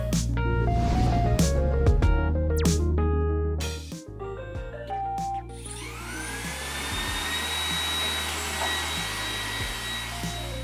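An iRobot Roomba 980 robot vacuum cleaner runs close by, a steady whirring motor hum that rises into a brighter whine partway through, with shifting tonal layers and no talking.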